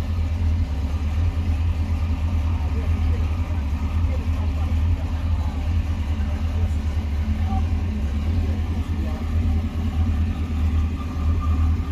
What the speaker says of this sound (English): Got the Camaro. Sound like a sawing machine.